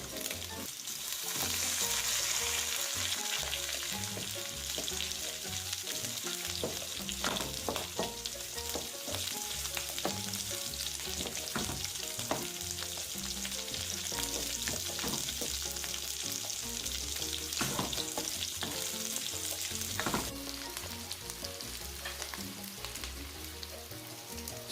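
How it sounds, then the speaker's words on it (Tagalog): Garlic and onion sauté in a wok for pinakbet, a continuous close sizzle with repeated sharp scrapes and taps of stirring throughout, steady and unbroken with no voices. "Now it's time for the garlic to saute on the same wok,"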